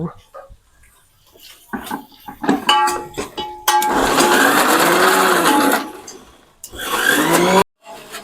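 A kitchen mixer grinder whirs loudly while grinding ginger and garlic into paste, running in two bursts with a short stop between, after quieter clinks and a voice at the start.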